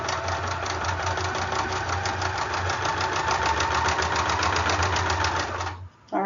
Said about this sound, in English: let's go ahead and run it through our sewing machine here